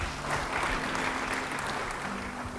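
Applause from a church congregation during an Indonesian sermon, a steady mid-level patter of many hands, fairly distant and continuous.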